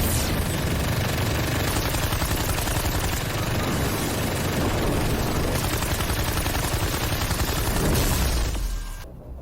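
Dense, sustained gunfire roars through an animated fight scene, a loud, continuous barrage of rapid shots and blasts that carries on for several seconds before cutting off abruptly.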